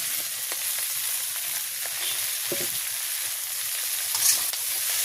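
Fish frying in a pan in a village kitchen sizzles steadily and loudly throughout, a continuous bright hiss with small crackles and a brief stirring clatter, with no voices.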